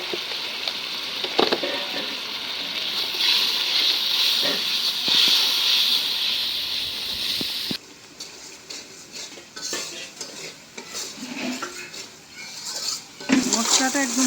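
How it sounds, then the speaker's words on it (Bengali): Turmeric, chili and coriander spice paste frying in a pot for goat curry, hissing and steaming steadily while a metal spoon clinks and scrapes against the pot. "মশলাটা একদম ভালো করে কষাই নিলাম"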